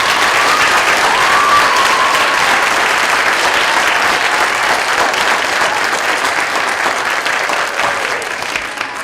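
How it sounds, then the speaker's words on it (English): Students and guests at an elementary school Veterans Day assembly applaud in a long, sustained round that fills the hall and slowly tapers toward the end. "can we have a round of applause for them?"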